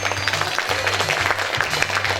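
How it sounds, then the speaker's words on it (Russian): Audience at an anniversary concert of a Chuvash folk ensemble applauding child performers, with steady, dense clapping throughout. "Я думаю, что дети достойны ваших оваций."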